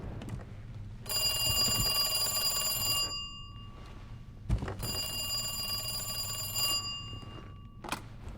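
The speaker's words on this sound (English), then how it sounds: "with a final run over to Irons' office, the phone mysteriously rings out" An old-style telephone bell rings in a police office in the survival horror game Resident Evil 2 Remake: two long, loud metallic rings separated by a pause, with a thud or footstep between them.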